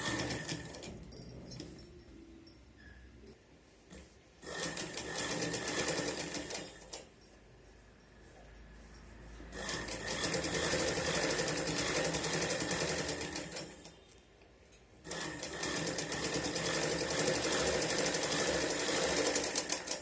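A sewing machine stitches a cloth neckline patti in bursts, its rapid mechanical chatter running close and steady, pausing briefly between seams before starting again.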